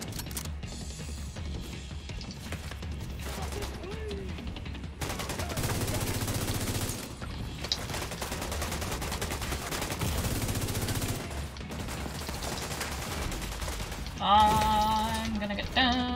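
Sniper gunfire in a first-person shooter video game: repeated loud, sharp reports and rumbling blasts over dense battle noise, with someone talking over the action.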